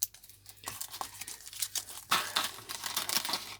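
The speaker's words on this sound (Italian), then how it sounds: "Per aprire i sacchetti ricordatevi, pollice e indice, non fate così che diventate matti e li rompete, pollice e indice, sfregamento" Small plastic parts bag from a build-up model kit being rubbed open between thumb and forefinger, close crinkling and rustling in short uneven bursts, with a louder stretch near the end.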